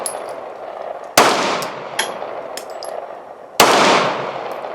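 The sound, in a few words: pistol shots fired at night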